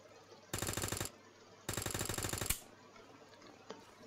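Automatic gunfire in the Roblox zombie survival game ALONE, two loud rapid bursts of roughly half a second and a second each, followed by quiet background ambience and a faint thump.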